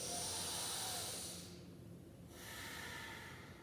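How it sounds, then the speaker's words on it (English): Deep, steady breathing in and out through the nose during a myofascial release yoga session: a long, airy inhale, a brief pause, then another breath, close and unaccompanied. "let's just take 2 big community breaths in and out through the nose"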